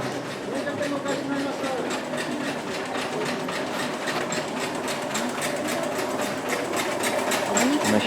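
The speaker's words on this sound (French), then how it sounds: "Machine à faire des gâteaux." A cake-making machine at a calm Tokyo market runs with a steady rapid mechanical clatter, continuous and moderately close, with a busy background hum and faint voices.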